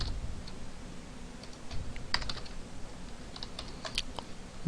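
A computer keyboard types out a password form label, with short bursts of quiet key clicks separated by pauses, close and alone.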